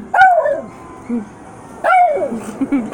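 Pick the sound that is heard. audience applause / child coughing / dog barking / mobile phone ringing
dog barking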